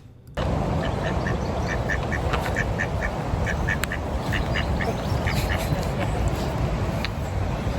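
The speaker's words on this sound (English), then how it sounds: "What a life to be a sunbathing duck at Leeds Castle." Ducks in the gardens at Leeds Castle quack repeatedly in quick bursts, close and clear over a steady outdoor background.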